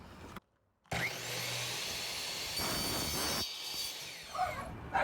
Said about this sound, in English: we're going to put it on the saw